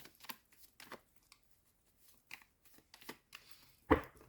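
Soft riffling and flicking of a 32-card deck being shuffled, scattered quiet bursts close by, ending in a sharper, louder riffle.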